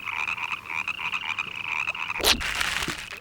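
A toad croaking: a steady, rapid trilling call holding on one pitch for a few seconds, near and clear, cut by a sharp crack or splash near the end.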